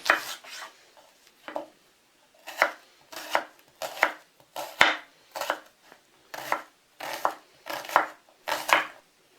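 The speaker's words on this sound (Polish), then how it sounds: "Przygotowanie farszu zaczynam od pokrojenia w kostkę cebuli." A knife dices onion on a cutting board for a mushroom dumpling filling, about a dozen crisp chops landing in uneven bursts, close and clear with no voices.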